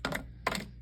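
Two short crisp snips of scissors cutting paper ephemera for a handmade card, close and quiet.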